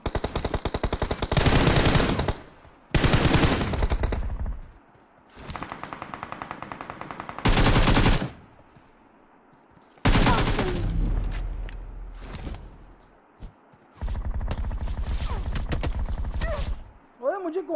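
Automatic weapon fire in PUBG Mobile comes in long, loud sustained bursts separated by short quieter gaps, with rapid repeated shots and voices talking faintly between volleys.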